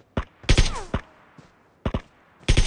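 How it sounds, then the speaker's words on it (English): Video game gunfire rattles in sharp, loud bursts: a quick cluster of shots early, a pause, then another pair and a final burst, with a brief voice heard between them. "No, I'm shooting him first."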